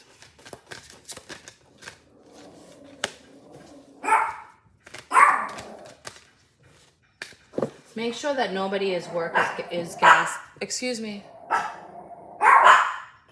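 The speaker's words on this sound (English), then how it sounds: "Why are you guys barking?" Several dogs bark in bursts, fairly close, while a person talks over and between the barking.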